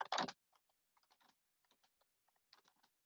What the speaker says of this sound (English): I'm not very good at typing, but I've made an effort